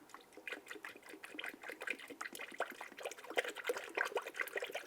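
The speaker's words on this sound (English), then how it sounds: "I'm going to go ahead and start filling the radiator." Coolant poured through a funnel into the radiator of a 2011-2017 Honda Odyssey gives a steady, close gurgling trickle with small splashy bursts, no voices.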